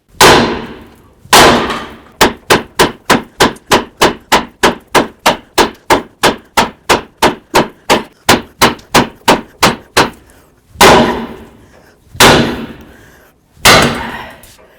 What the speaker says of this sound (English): just use my hammer and give this a couple loving bonks